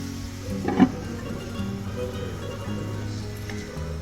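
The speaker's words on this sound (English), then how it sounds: "So right here I'm going to cook my beef until it's done." Beef frying in canola oil for a chile colorado burrito filling, a steady moderate sizzle with one brief clatter early on, no talking.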